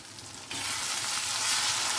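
Onions and tomatoes fry with turmeric in a pan for a rohu fish kalia; after a brief quiet start, a loud, steady sizzle rises at once and keeps going close by.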